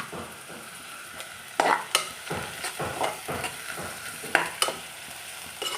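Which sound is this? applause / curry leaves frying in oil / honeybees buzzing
curry leaves frying in oil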